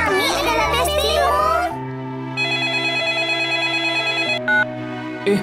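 A telephone rings with a steady electronic tone in a children's drama, coming right after a burst of children's voices and continuing alone as a clear, sustained ring.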